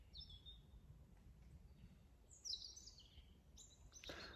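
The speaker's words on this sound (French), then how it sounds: "Vous avez le chant des oiseaux" Birds singing in a park, scattered high chirps and short song phrases at a moderate distance over a quiet, low outdoor hum, with no talk.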